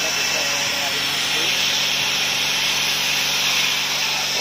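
A CNC laser cuts through 6 mm plywood in a workshop, giving a steady, loud hissing whine with a continuous airy rush, while someone talks over it.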